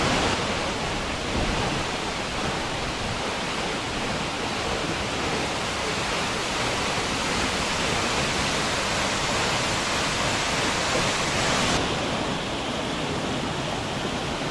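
A large waterfall on the Madmaheshwar trek pours with heavy flow, a loud, steady, broadband roar of rushing water filling the whole stretch without pause and with no voices.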